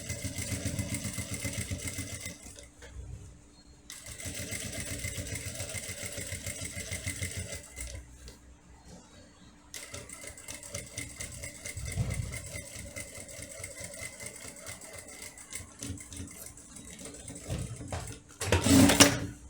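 Sewing machine topstitching a fabric handbag, running slowly in long motor bursts with short pauses between them, a steady buzzing whir close by, no talking.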